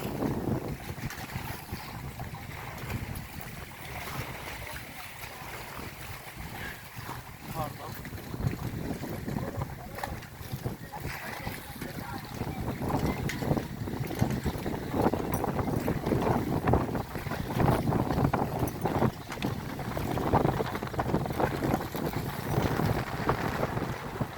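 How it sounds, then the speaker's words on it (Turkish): Steady wind buffets the microphone outdoors by the sea at Eski Foça, Turkey, in May, a broad rushing roar that grows stronger toward the end, with faint water sounds beneath. "Biraz rüzgarlı hava."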